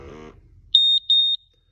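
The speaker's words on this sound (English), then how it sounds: "If you put your finger over the tip, you can see that the pump alarm will go off." An RKI GX-2012 four-gas monitor sounds its low flow pump alarm with the pump tip blocked: loud, close, high electronic beeps in sustained pulses, one short, one long, then another starting, after brief low talk.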